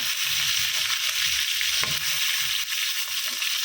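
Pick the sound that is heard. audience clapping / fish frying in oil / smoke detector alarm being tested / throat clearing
fish frying in oil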